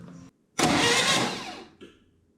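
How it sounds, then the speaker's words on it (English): A car engine with its spark plugs removed spins over on the starter in one loud, sustained burst of cranking lasting about a second, then cuts off abruptly, with quiet before and after. "We're going to attempt to turn the car over."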